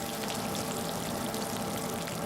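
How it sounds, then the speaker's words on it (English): Snapping shrimp crackle underwater in a dense, continuous sizzle like bacon frying in a pan, an even hiss of tiny clicks that stays level from start to finish with no voices. "snapping shrimp sounds like bacon frying in a frying pan."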